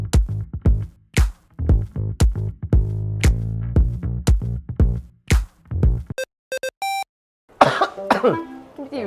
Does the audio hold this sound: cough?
yes